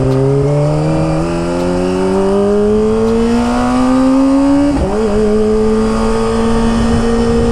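A Kawasaki ZX25R sport motorcycle fitted with a new Akrapovic exhaust revs hard, its engine note rising steadily as it climbs through the gears, then shifting sharply near the end. The sound is loud, close and continuous, with no talk.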